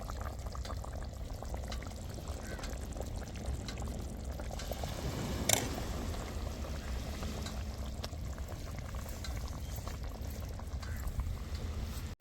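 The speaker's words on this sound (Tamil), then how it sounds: "நல்லா சுட சுட கொதிக்க கருவாட்டு குழம்பு ஊற்றி சாப்பிட்ருவோம்." Hot, freshly boiled dried-fish curry is poured and bubbles softly in a quiet, continuous stream, with a brief splash near the middle and no talking.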